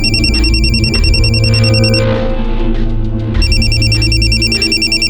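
A loud electronic phone ringtone repeats its pattern, briefly cutting out midway before ringing again, with no voices.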